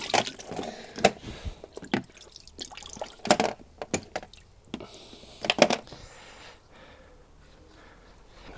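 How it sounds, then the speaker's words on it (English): Dry bags are pushed under water in a tub for a soak, giving sharp splashes, drips and squishy liquid sloshing in irregular bursts, close and fairly loud, fading to quieter trickles. "So let's get these under the water, give them a proper soaking."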